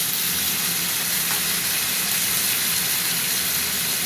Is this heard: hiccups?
no